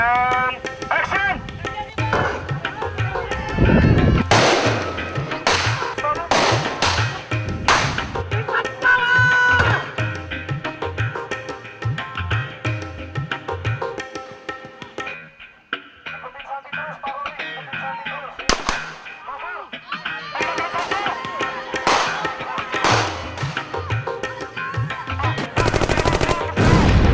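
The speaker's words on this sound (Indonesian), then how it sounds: "Hari ini kita pakai bom-boman, pakai senapannya juga meledak beneran." Prop-gun gunfire and small explosions on an Indonesian film set, with rapid bursts of sharp shots and bangs, loud and close, mixed with voices and a quieter stretch partway through.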